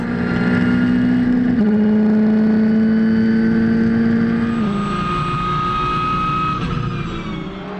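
Racing cars, including a Ferrari, roar off the start at the Anneau du Rhin circuit, a loud sustained engine drone with shifting pitches from several cars passing, some gear changes stepping the tone.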